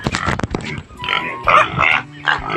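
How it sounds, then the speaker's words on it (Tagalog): Pigs grunt at feeding time, with several short, close grunts and snorts following one another in quick bursts. "So sila yung alaga kong baboy guys, mga lods."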